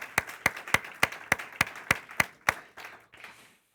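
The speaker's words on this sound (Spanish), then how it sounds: "De una ofrenda de palmas y diga amén" A church congregation claps in unison as an offering of praise, about nine loud, evenly spaced claps in a steady beat, then a ragged tail of scattered claps fading out.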